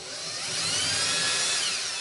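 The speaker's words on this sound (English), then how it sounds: "I will just drill these holes" A power drill bores holes into a 3mm holder for an 8-switch RGB assembly, whining high and steady for about two seconds, close and alone, rising slightly as it bites into the material.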